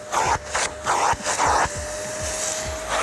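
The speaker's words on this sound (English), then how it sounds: "I'm gonna grab our vacuum cleaner." A vacuum cleaner fitted with a crevice tool works over a car floor mat, its motor droning while the nozzle repeatedly catches and releases in rhythmic surging bursts before settling into a steady whine.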